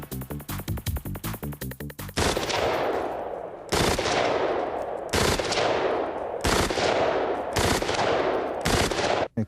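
A K2 rifle fires a quick rapid string of shots, then four loud single reports spaced about 1.5 seconds apart, each ringing out with a long echo.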